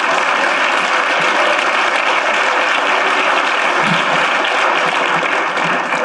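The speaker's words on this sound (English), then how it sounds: "Please give her a big round of applause." An audience applauds at an urban education symposium, steady dense clapping filling the room at full volume for the whole stretch with no speech over it.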